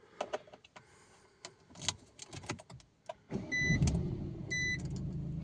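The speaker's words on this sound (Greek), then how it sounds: "Το αυτοκίνητο πήρε μπροστά και με αυτό." A car starting with a newly programmed key: clicks and key rattles give way to the engine cranking and catching, then a steady idle with electronic chimes, close and moderately loud.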